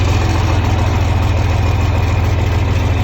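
A John Deere 4010 tractor engine idles close by, a loud steady low chugging with an even rapid pulse and no other sounds.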